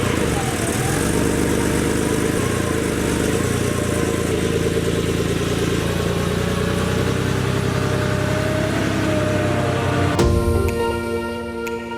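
A Porsche 911 3.2 Carrera drives with its engine droning loudly and steadily up close, gear whine from the transmission rising over the rumble, then a shift in pitch near the end as the engine note changes.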